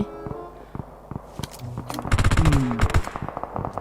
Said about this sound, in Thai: คนมันยิงกันรอบบ้านเลย